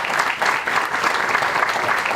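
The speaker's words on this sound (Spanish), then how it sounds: "les pido un fuerte aplauso por este reconocimiento." Strong, sustained applause from an audience at an Asháninka community gathering honoring Ruth Buendía, dense steady clapping filling the space with no voices on top.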